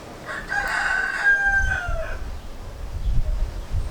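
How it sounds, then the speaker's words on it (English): A chicken crows once, a loud drawn-out cock-a-doodle-doo close by, followed by low background noise. "Oh my god, chicken, shut up."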